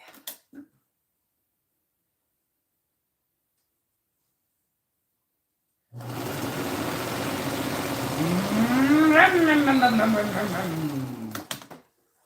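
After several seconds of silence, a sewing machine runs steadily for about six seconds with a mechanical whir and rising pitch, then stops abruptly.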